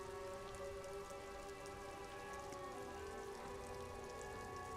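Rain in the video game Disco Elysium falls as a steady, soft patter on surfaces, quiet and even throughout, with faint tonal background music beneath it and no speech.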